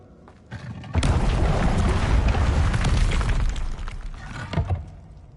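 A spell blast from the Expelliarmus charm in Hogwarts Legacy erupts after a brief lead-in, a loud booming, crackling burst that rolls on for several seconds and then trails off.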